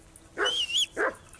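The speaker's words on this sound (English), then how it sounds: "whistle at that mutt of yours to stop barking" A dog barks in Kingdom Come: Deliverance II, two sharp close barks about half a second apart, loud against a quiet background with no talk over them.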